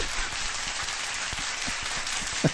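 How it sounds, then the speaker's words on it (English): Applause from an audience: a continuous, dense wash of clapping with scattered louder claps, steady throughout and free of speech. "A round of applause to the people."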